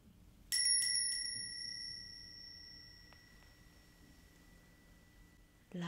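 A small bell is struck a few times in quick succession, then its bright ringing tone lingers and slowly fades in a quiet room, with another strike at the very end, in an ASMR roleplay.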